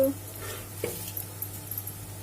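Onions frying in a pan, a soft steady sizzle with a few stirring scrapes, close and fairly quiet, no talk over it.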